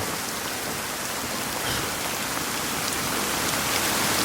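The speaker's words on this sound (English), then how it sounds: "Ooh, hail, hail." Dense, steady patter of hail or heavy rain striking the ground nearby, continuous and fairly loud with no voices.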